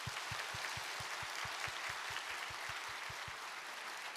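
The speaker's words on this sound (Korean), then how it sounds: "우리 인사하실 때 큰 박수로 환영하겠습니다." A church congregation at a Sunday service claps in welcome for a new pastor and his family, with even, continuous applause and a regular low thumping beat beneath it.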